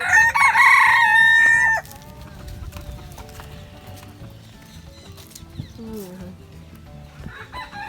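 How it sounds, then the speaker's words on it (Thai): Chickens with a rooster crowing loudly up close for the first two seconds, then fainter clucking and farmyard bird sounds continue in the background of an otherwise busy outdoor scene. "อันนี้ก็ไก่แหละแต่เขาปล่อย"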